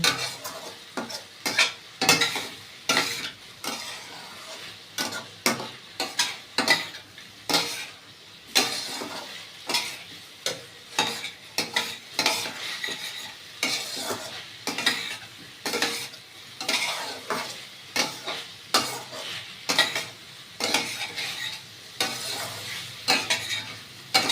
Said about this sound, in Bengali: ডিমের বড়িগুলো ভালো করে কষিয়ে নেব।